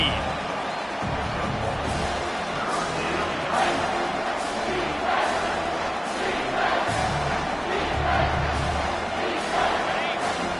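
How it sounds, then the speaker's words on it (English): A packed football stadium roars loudly and continuously on third down during a Kansas versus Georgia game, with broadcast commentary heard over the crowd noise. "3rd down, and this crowd is bringing down the house"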